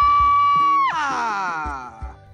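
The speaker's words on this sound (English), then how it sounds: "Also, Finn scream." A cartoon character's scream from the Adventure Time series finale, a sustained high vocal cry that drops sharply into a strained groaning wail, loud and close, with music underneath.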